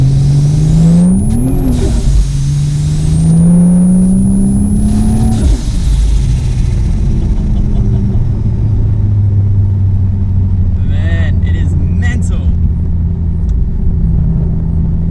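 A 620 hp turbocharged Ford Falcon with an internal wastegate accelerates hard up close, its engine note climbing steeply with a high turbo whistle, then easing off into a loud rumbling cruise; someone speaks briefly.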